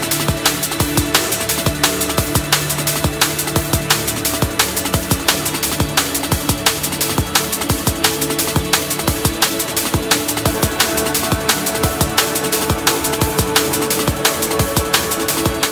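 Drum and bass drum pattern with a distorted breakbeat layered underneath, fast dense hits with punchy kicks and crisp snares in a loud, driving, continuous loop without voices.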